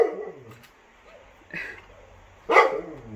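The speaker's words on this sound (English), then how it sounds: "Our neighbors got a puppy, and now they have 3 dogs, and the puppy barks incessantly" A neighbors' puppy barks in three sharp bursts spaced about a second apart, moderately loud and slightly distant, with quiet room tone between the barks.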